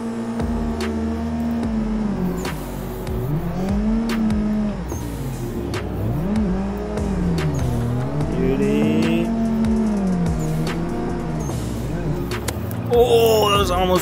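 A car drifts around Lime Rock in a VR racing game, its engine repeatedly revving up and dropping in wavy swells while tires squeal through the turns, loud and continuous.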